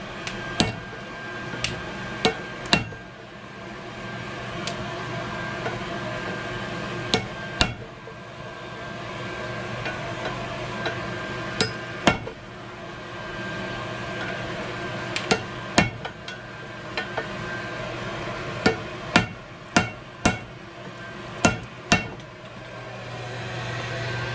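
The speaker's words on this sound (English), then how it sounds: "use that round edge and hit it like that so it spreads it out good" Hammer blows ring out on a horseshoe over an anvil during hand forging, coming in loud, sharp strikes that are irregular, in clusters and single hits across the stretch, with a steady background hum and no talk.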